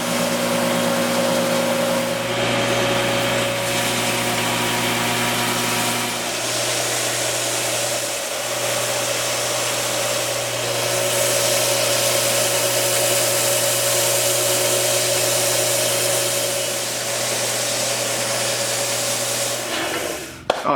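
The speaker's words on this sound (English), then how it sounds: "you gotta be super careful when you're sanding this stuff because it just sands away so fast" Power sander working steadily on a wooden handle, a continuous loud abrasive whir with rubbing texture running throughout before cutting off abruptly at the end.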